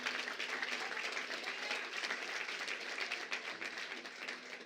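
A crowd at a public policy forum applauds for Paul Persard, dense, even clapping that holds at a steady level throughout with no voices over it.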